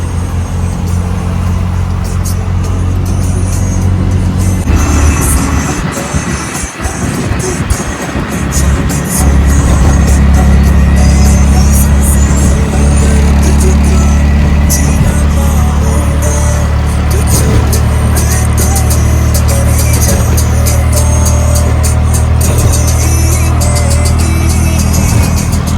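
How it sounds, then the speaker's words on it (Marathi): Auto rickshaw speeding along a highway at night on the way toward the Katraj tunnel, its engine a loud, steady drone with constant road and wind rush for the whole stretch, a brief dip and surge partway through. "आमची रिक्षा 148च्या स्पीडने चालू आहे"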